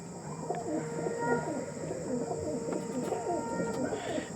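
Clear-ring pigeons coo in low, repeated rolling calls close by, a steady chorus of several birds with faint chirps and no speech over it.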